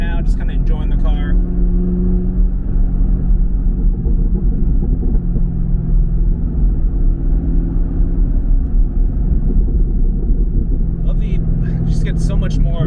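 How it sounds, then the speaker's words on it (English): A car fitted with an Orla S-Type axle-back exhaust runs with a steady, deep, close rumble for the whole stretch, with a few brief sharper noises at the start and end. "Get so much more response out of it now from this exhaust."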